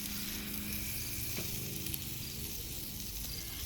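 Cinnamon roll dough from Grands frying in butter on a Blackstone griddle, a steady close sizzle with faint crackle and one small tick, no talking.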